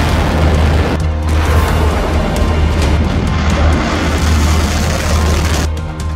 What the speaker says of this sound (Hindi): जब ईरान की ये मिसाइल फायर की जाती है तो तस्वीरें ऐसी होती हैं।